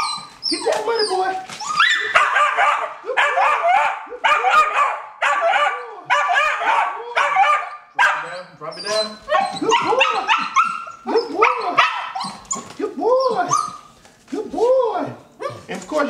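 A puppy being trained to find US currency barks, yips and whimpers in repeated bursts, loud and close, with people talking over and between the barks.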